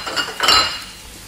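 A spoon stirs finely chopped tomatoes sautéing in a cooking pot, giving a short burst of close metallic clinks and scraping.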